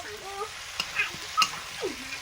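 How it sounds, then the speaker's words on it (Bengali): Vegetables with capsicum stir-fry on high flame for mixed chow mein. A steady close sizzle runs throughout, broken by a few sharp utensil clicks and scrapes. "আর সবজিগুলো একদম হাই ফ্লেমেই ভাজছি, জলটা বেরিয়ে যাবে।"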